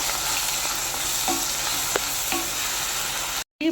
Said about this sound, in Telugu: ఇప్పుడు ఉల్లి ముద్ద వేసేస్తున్నాను ఇందులో. బాగా కలుపుదాం.